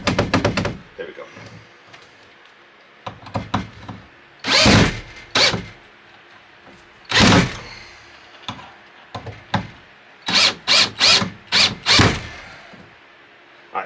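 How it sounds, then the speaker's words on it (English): A power drill drives into a wall stud while mounting a PC case, heard as short loud bursts of drilling and knocking spread across the clip, with a person talking in between. "Oh, and of course I do the drilling."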